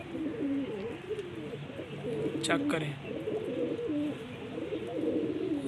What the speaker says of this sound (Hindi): गोल्डन कबूतर हैं माशाल्लाह।